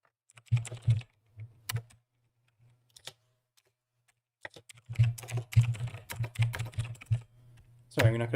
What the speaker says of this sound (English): I'm probably gonna be quiet for the next few minutes until I finish typing this out.